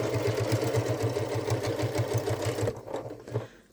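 A sewing machine runs steadily, stitching flattened fabric for a Halloween treat bucket, with a fast even mechanical whir that stops near the end.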